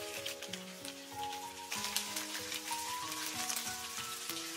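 Sea bass pieces pan-fry over medium-low heat for a home-style dish, a soft, steady sizzle with fine crackle holding even and low throughout, heard close without talk.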